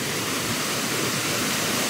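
Steady broadband rush of a waterfall at a tropical Philippine travel spot, loud and continuous with no voices over it.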